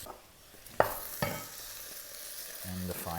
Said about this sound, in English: Just a quick stir fry, as you can see here.